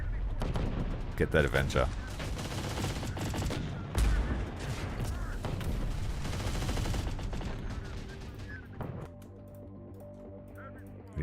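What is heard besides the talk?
gunfire in video game Terminator Dark Fate Defiance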